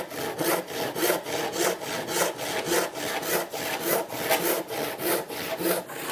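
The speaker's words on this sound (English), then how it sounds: "I'm going to rip on the waist side of the line using a rip saw" A rip saw cuts along the grain of a wooden board held by a holdfast at a workbench, making steady, rhythmic rasping strokes about twice a second, close and fairly loud.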